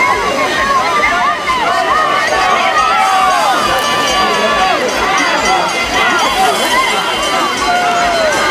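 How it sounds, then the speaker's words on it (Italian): Teammates cheer loudly at a farming competition during an agricultural festival in Cogolo, a dense, continuous roar of shouting and crowd babble close by and without pause. "Sentite il tifo che fanno i compagni delle loro squadre."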